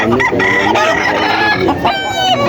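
Chickens cluck and a rooster crows loudly and close by, several overlapping calls in quick succession.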